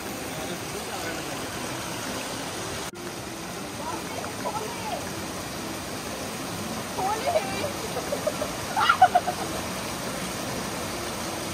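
A river in Bali rushes steadily in an even, broadband wash, with faint voices and a few brief splashes or clatters near the end.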